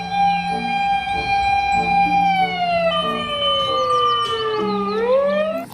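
Toy fire truck siren wailing in long sweeping tones that rise and fall, loud and close, with a steady beeping pattern underneath and no speech.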